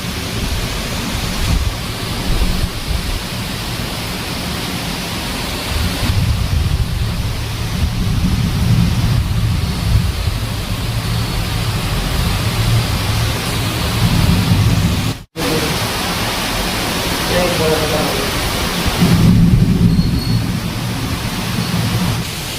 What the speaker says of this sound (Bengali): এবার বৃষ্টি শুরু হয়ে গেছে, দেখো ঝড় বৃষ্টি দুটো স্টার্ট।